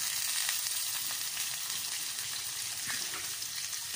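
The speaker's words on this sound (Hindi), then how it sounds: "कीमे को अच्छी तरह इसमें ऑयल में भून लें" Minced meat keema frying in oil with ginger-garlic paste for an aloo keema, a steady close sizzle with faint stirring scrapes throughout.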